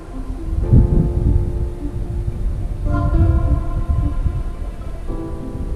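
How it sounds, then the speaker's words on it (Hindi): Strong wind gusts in a quiet mountain valley at Minimarg, Pakistan, as a steady low rumble with swelling surges and no voices over it. "बस हवा जब तेज़ चलती है तो उसकी कुछ आवाज़ आती है"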